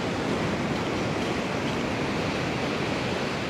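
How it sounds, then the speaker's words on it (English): Ocean waves roll in and break at a bodyboarding beach, a steady broadband wash of surf that stays loud and even throughout, with no voices. "It's like you're getting a nice little wave coming in"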